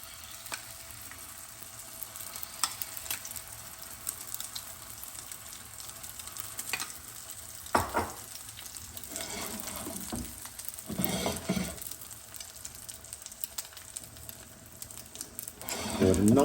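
Egg mixture sizzling in a pan over low heat while a Korean rolled omelette is cooked, a steady frying hiss with occasional scraping and stirring sounds and brief louder swells.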